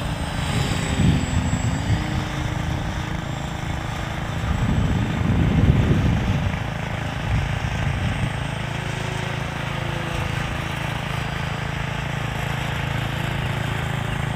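A model P-40 airplane makes a slow pass over an airfield, its small engine droning at a steady pitch, swelling briefly as it passes nearest and then settling back into a continuous distant hum.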